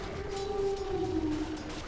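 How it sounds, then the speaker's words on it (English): Lycan's Howl ability in the Dota 2 game sounds as one clear wolf-like howl. The sustained tone wavers and slides slightly downward over a bit under two seconds, set against faint background game noise. "Howl coming out"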